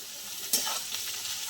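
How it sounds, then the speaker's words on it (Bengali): Taro stolons (kochur loti) fry with chopped onion in a pan, a steady close sizzle with a brief clatter of stirring near the start. "এবার আমি দিয়ে দেবো ওই লতিটা এর সঙ্গে একসঙ্গে ভাজা হয়ে যাবে"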